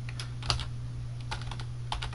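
A few scattered keystrokes on a computer keyboard while entering a Linux terminal command, soft clicks spread irregularly over a steady low electrical hum, no voices.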